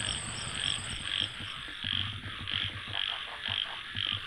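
A dense chorus of frogs and insects calls across a summer field, steady pulsing croaks below and a continuous high insect trill above, moderately loud and unbroken throughout.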